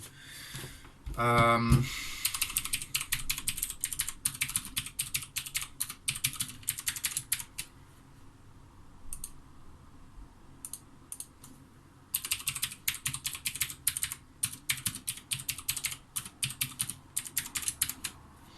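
Rapid clicking of a computer keyboard as a password is typed, bursts of close keystrokes separated by a short pause midway, while a person talks quietly in the background.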